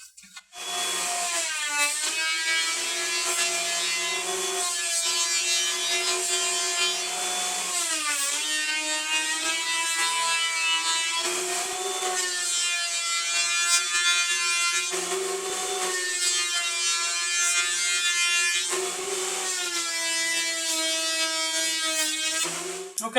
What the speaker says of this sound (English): we're going to take this through the planer really slowly, really gently, really shallow